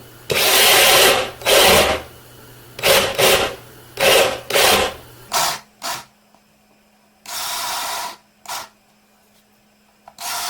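Spade bit, 5/8 inch (16 mm), boring into wood for a carriage bolt head in a woodworking jig: loud rasping bursts of drilling in several runs, stopping and restarting, with pauses of quiet between them and no talk.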